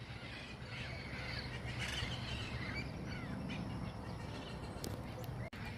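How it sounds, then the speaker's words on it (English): Parrots flying around a neighborhood near Hunter Park in Harlingen, scattered chirps and squawks at a distance over a constant outdoor hiss and rumble. "there are parrots flying all around this neighborhood"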